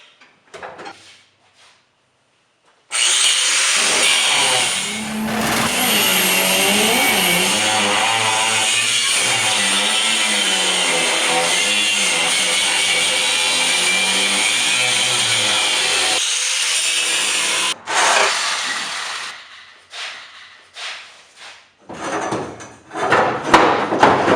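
A cheap $40 hand grinder cuts into a steel roll cage, loud and close, its whining motor shifting pitch as it bites the tubing for over ten seconds. It stops abruptly, then tools and metal clank sporadically.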